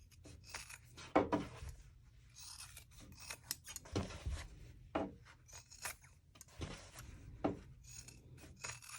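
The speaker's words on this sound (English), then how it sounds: "you can trim off these extra petal corners." Scissors snip off the extra fabric petal corners of a flower appliqué on a sewn backpack, giving a run of quiet, close crisp cuts and rasping blade strokes in irregular bursts, with no voices.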